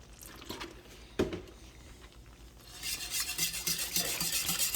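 Milk is stirred into thick gravy in a pan: one sharp clink of a spoon, then a soft sizzle that grows into a louder, steady bubbling hiss near the end.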